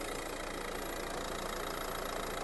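A 2017 Renault Megane engine idles steadily and evenly, a continuous close mechanical drone with no revving and no voices.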